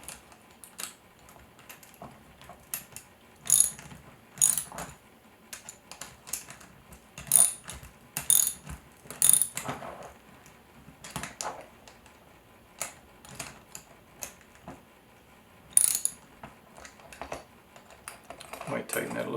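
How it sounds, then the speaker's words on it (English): A ratchet socket wrench tightening bolts while assembling a rolling plotter, heard as quick bursts of clicking ratchet strokes spaced between pauses, fairly close, with a person talking in between. "I'm using a 1/2 inch socket and a 1/2 inch wrench to put them in place"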